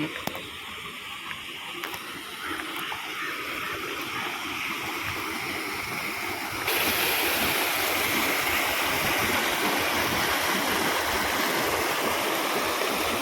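Steady rushing of stream water held back and released at a small dam near Shoolam Waterfalls in Maradi, Kerala, loud and continuous, growing fuller and stronger partway through with no voices.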